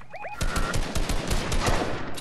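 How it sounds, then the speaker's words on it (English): Gunfire in a battle video game crackles as a dense burst of rapid, loud shots after a short electronic chirp, sustained to the end. "I just got sniped for real"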